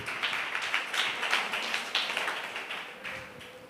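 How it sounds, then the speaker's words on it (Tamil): A church congregation claps their hands together, producing a thin, ragged patter of many overlapping claps that sounds somewhat distant and fades slightly toward the end. "நல்ல 2 கைகளை தட்டி உற்சாகமாக, இவ்வளோதானே உங்கள் கை தட்டி."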